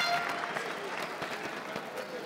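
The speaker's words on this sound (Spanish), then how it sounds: "la grada, que rápidamente reacciona con aplausos" Basketball fans in the stands at a LEB Oro promotion final applaud, producing a broad, moderately quiet patter of clapping that continues steadily throughout.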